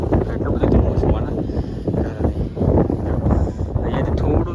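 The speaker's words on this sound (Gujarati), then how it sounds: "હા પવન જો આવો એકદમ ઠંડો પવન આવે" Cold wind gusting across the hilltop at Pavagadh in thick fog, a loud buffeting rumble against the microphone that swells and dips in waves, with a voice speaking over it.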